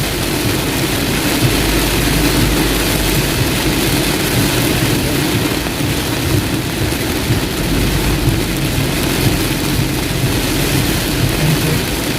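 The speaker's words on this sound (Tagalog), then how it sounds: "Naabutan po talaga kami ng lakas ng ulan, mga kababayan. Ang lalakas pa ng kidlat." Heavy rain hammers steadily around a moving vehicle during a thunderstorm, with a continuous dense roar and low rumbling underneath, loud and unbroken throughout.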